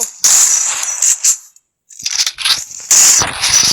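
Rapid gunfire in a shooter video game, with several sharp bursts of shots separated by a brief silent pause.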